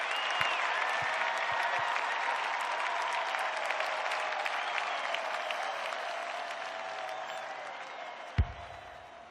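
Loud, sustained crowd roar and applause at an Australian rules football match at a historic VFL ground, a steady dense wash of cheering from start to finish with a sharp thump near the end.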